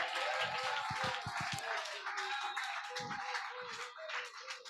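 A church congregation claps and cheers for Jesus, a loud, dense, sustained applause with crowd voices mixed in.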